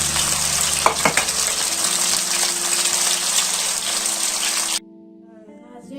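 Okra fries in a pan with a loud, dense sizzle and some stirring clatter early on, then the sound cuts off abruptly near the end, leaving only a faint hum.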